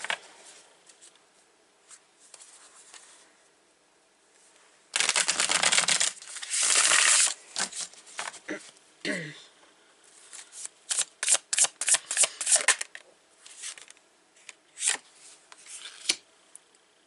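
Oracle deck cards being shuffled in a quiet room, with a long riffling burst followed by a run of quick, crisp card snaps and taps that come in irregular clusters close to the listener.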